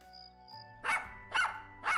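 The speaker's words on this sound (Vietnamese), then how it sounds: "Nghe thấy tiếng Tiểu Hoa sủa dữ dội" A dog barks fiercely three times in quick succession, fairly loud and close, after a soft tonal background, with no talk.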